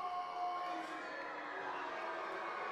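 A basketball arena crowd of about 2,500 keeps up a steady, distant roar of cheering and chatter, with no distinct peaks.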